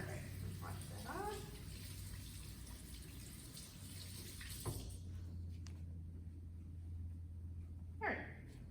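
Tap water runs steadily into a kitchen sink while raw egg is rinsed off the hands, a soft continuous splash with brief clatters and a voice speaking over it.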